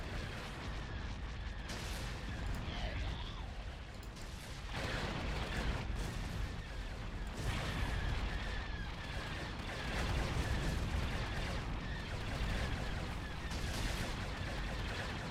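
Starship weapons fire in a Star Wars: Empire at War space battle with the New Jedi Order sub-mod, a dense, continuous barrage of booming blasts and rumbling impacts, loud and sustained throughout with no clear gaps.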